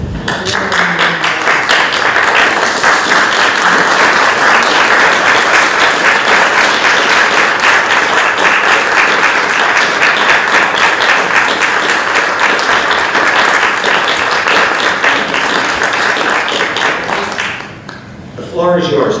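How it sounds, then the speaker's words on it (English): Board of trustees members and meeting attendees stand and applaud two honorees, a loud, dense, sustained round of clapping lasting many seconds before fading and breaking off near the end. "I'd like the board to join me in standing up and applauding Tom and Sue"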